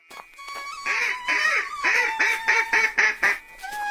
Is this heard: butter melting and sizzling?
no